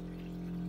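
A boat toilet flushes after its left button is pressed, letting a steady, close pumping rush of water run through the bowl with a low continuous hum and no talking.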